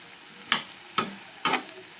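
Three quick, evenly spaced stirring scrapes as broccoli is tossed in a sizzling pan, close and distinct over a faint background, with no voices.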